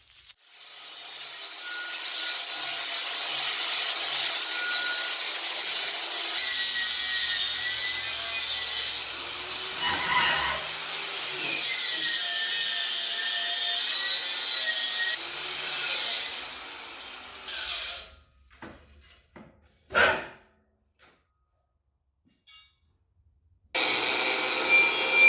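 A power grinder works steadily on old metal tool stands, a sustained whining grind with shifting pitch for about fifteen seconds, then breaking into short bursts and pauses before starting up again, loud and close.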